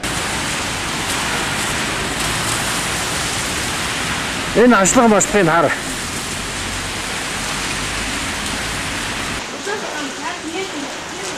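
Steady rain falls outdoors as a constant broadband hiss, with someone speaking briefly over it.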